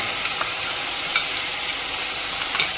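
Ginger garlic paste frying in a hot pan for dal, giving a steady, loud sizzle with a few brief crackles and stirring scrapes and no talking.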